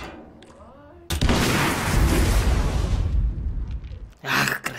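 A sudden loud blast of a remote explosive detonating in Hitman 2 breaks the near-quiet, followed by a few seconds of roaring, crackling rumble and then a final sharp burst.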